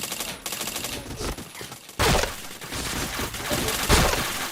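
Rapid bursts of gunfire from a shooter video game scoring chained headshots, dense crackling volleys that jump louder partway through and keep going without a break, with no talk over them.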